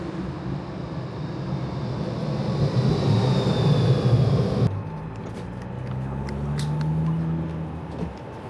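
Steady rumbling of a moving tram, louder in the first half, then a lower hum with faint clicks and rattles as it rolls along.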